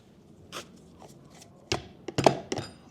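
Ancho and chipotle chile paste for al pastor being mixed after blending: soft scraping at first, then sharper knocks and thick scrapes clustering toward the end, close and moderately loud.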